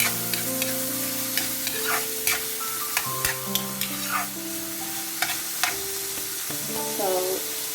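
Mixed vegetables being stir-fried for pork chao fan, a steady hiss of sizzling oil broken by repeated sharp clinks and scrapes of a utensil against the pan, with faint background music playing underneath.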